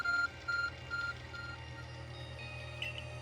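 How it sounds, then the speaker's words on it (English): The Arc phone in the video game Pokemon Legends Arceus beeps three times in quick succession, clear short electronic tones over a low steady game hum. "Arc phone is beeping"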